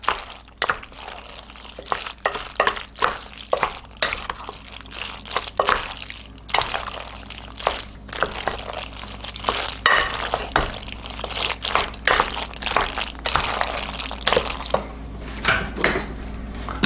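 Mustard being stirred into a tuna macaroni salad in a bowl, with a steady run of wet, squelching mixing and scraping strokes close by, and no talking.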